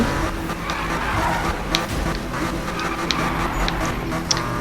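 Racing cars in the Need for Speed video game roar continuously with engine drone, tire squeal and skid noises, loud and steady throughout with no talking.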